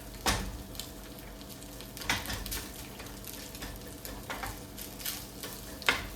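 Smoked salmon fried rice sizzles in a pan while a wooden spoon mashes and stirs it, with a steady frying hiss broken by several distinct scraping knocks.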